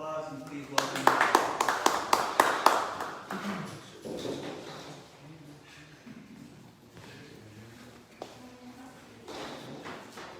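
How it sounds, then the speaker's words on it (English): A small audience at a BEAT AIDS program claps to welcome a guest, a short run of sharp, close claps that fades after a few seconds into shuffling, low voices and room noise. "So give a round of applause and please welcome"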